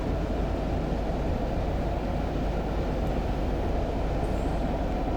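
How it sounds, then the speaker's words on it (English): A Class 117 diesel multiple unit in Train Simulator 2021 rumbles under engine braking on a steep downgrade, a steady low, dense roar running unbroken throughout with no talk. "Here's the engine braking up there."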